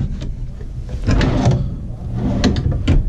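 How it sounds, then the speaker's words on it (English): Full extension drawers in the kitchen of a 2017 Ice Castle 21-foot RV Extreme Edition slide open and shut nearby, with rolling glides and several light knocks and clicks as they close. "Nice full extension drawers."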